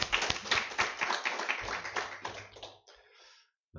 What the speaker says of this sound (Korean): 우리 하나님께 한번 큰 박수 올려드릴까요?